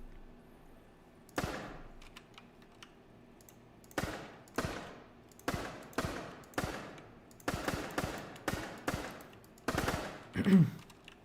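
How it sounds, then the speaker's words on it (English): Repeated gunshots from a retro online first-person shooter game in development, about ten sharp cracks firing in irregular bursts, some in quick pairs, each with a short decaying tail, loud and alone with no talk. "I don't want to like deafen everybody by doing gunshot sounds all night though."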